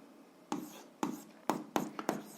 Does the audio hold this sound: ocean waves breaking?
no